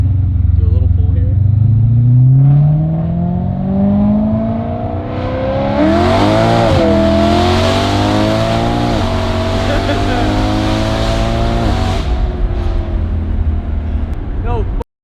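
An old-school BMW E30 revs and accelerates hard, its engine climbing through the rev range in loud sweeping pulls with brief shifts between, close up inside the car, with excited voices underneath.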